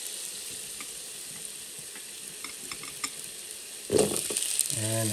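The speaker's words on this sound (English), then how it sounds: "I'm gonna go ahead and put the Korean sweet potatoes in first" Korean sweet potatoes dropped into a hot pan for spicy chicken dakgalbi, a sudden loud sizzle and frying hiss bursting up near the end after quieter kitchen clinks and light stirring.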